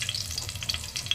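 Ginger frying in a pan for chicken tinola, a close, steady hiss of hot oil with faint crackles throughout the brief moment.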